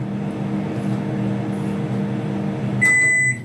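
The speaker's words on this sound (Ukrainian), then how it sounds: "Я е, поставлю його зараз в мікрохвильову піч десь е, на секундочок 20" A microwave oven hums steadily up close, its low drone constant throughout, with a high electronic tone starting near the end.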